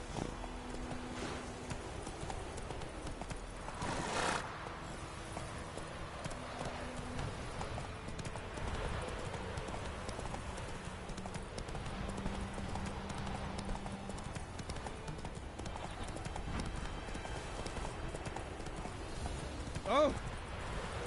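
Roach, a horse in The Witcher 3, gallops in a steady clip-clop of hooves that runs throughout, mixed in with game music and ambience while a voice talks over it now and then.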